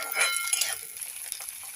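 Steamed cauliflower fries in a pan, a short, fairly quiet hiss with soft crackling and light stirring, fading slightly after the first moment.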